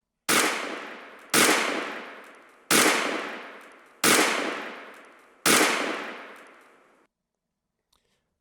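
Laser dry-fire training pistol used on a smokeless target range at 25 yards: five loud, evenly spaced gunshot-like bangs, each with a long fading tail, followed by near silence.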